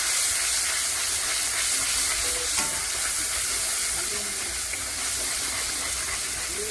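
Spice paste for a taro-stem curry fries in a pan, giving a steady, close sizzle and hiss with occasional stirring scrapes.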